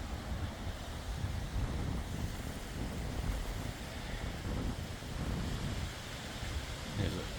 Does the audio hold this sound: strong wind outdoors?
yes